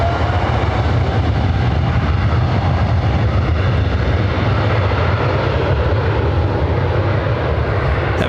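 An airliner bound for Tokyo Haneda rolls down runway 24 right at LAX for takeoff, its engines a loud, constant low roar throughout.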